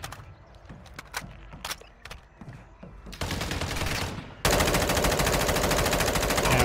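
Sustained automatic gunfire in the Warzone Mobile shooter game, starting as scattered shots and building into dense, loud machine-gun bursts that continue to the end.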